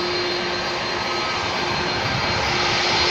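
A Thai Lion Air jet sits at Phuket airport, its engine giving off a steady, loud, broadband roar with a constant whine and no breaks, heard alone without talk.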